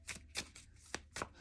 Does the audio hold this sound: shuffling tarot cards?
yes